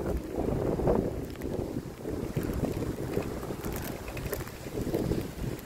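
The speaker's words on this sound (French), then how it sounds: "Trop de vent contraire." Strong headwind buffets a small boat on open water, with steady loud wind roar and microphone rumble throughout, gusting slightly louder at moments, no talking.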